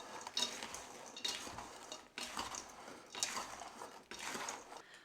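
A spoon scrapes and clinks against a bowl while bread stuffing mixed with salt is stirred, in four or five quiet bursts of clattering with brief pauses between them.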